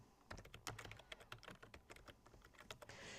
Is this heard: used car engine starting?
no